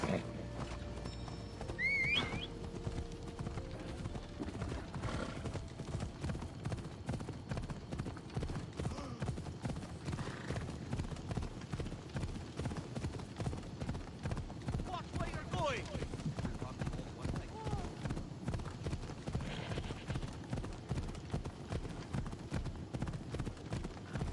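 Steady rhythmic clip-clop of horse hooves continues throughout, with a horse's whinny near the start, from the game Assassin's Creed Odyssey. The sound is game-like and close.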